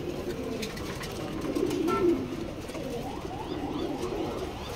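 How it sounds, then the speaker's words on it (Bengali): Male racing pigeons in a cage, cooing in low repeated throaty calls, fairly close and moderately quiet, swelling briefly midway over a faint background. "এগুলো সবগুলো হলো নর কবুতর এবং রেস করা"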